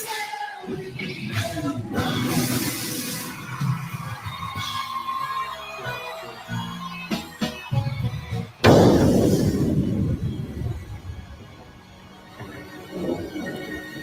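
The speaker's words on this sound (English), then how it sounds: "Fireworks." Fireworks burst outdoors after rain, rumbling booms and crackles of varying loudness with one sharp heavy blast midway, followed by a fading rumble.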